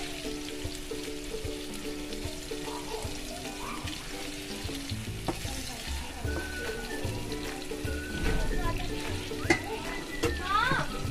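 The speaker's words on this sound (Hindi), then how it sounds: "आइए इन्हें थोड़ी सी देर और फ्राई करेंगे।" Stuffed brinjal frying in a pan gives a steady soft sizzle with occasional stirring clatter, getting louder and busier toward the end.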